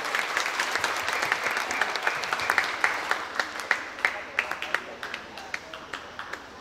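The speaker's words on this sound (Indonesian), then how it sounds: "Aplaus untuk guru PL kita" An audience applauds trainee teachers at a school gathering, a steady patter of many hands clapping at moderate distance, with a few sharper claps standing out and voices mixing underneath.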